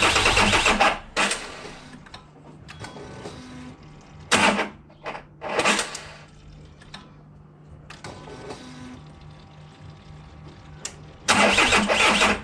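A Citroën C5 2.0 HDi diesel cranks repeatedly without starting, its starter whirring in several bursts of varying length with quieter gaps between, close and fairly loud.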